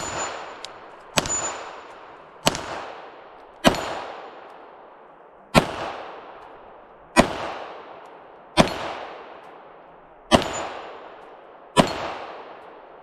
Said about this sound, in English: Let's shoot at the gong, see how we do here.